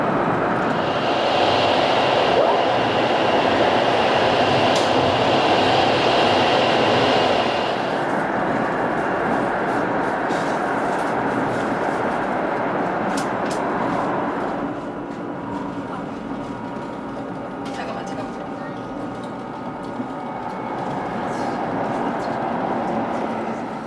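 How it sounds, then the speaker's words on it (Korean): A KTX high-speed train rumbles along at a steady roar, with a whooshing hiss that changes tone partway through as it runs on. "열차는 다음 역인 살미역에 도착합니다."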